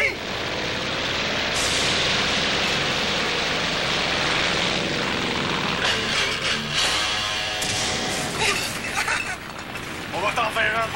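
An airplane engine roars loud and steady inside a 1996 Quebec beer commercial, a dense propeller drone that fills the scene and then breaks up into clatter and excited shouting voices near the end.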